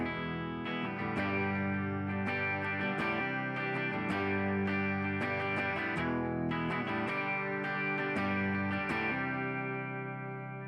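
An electric guitar plays its basic tone through a Fender Tone Master Pro, with sustained chords and picked notes ringing in a continuous, even, fairly loud passage and no voices.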